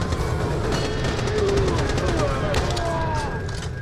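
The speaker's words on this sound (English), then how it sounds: "No, it's a rather standard SMG." A standard SMG in Borderlands fires continuous rapid automatic bursts, dense and fairly loud, set against a steady wash of game noise and music.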